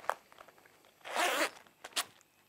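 A locking-slider zipper on a boat clear window is pulled along in one smooth, close rasp, with a few short clicks of the slider before and after.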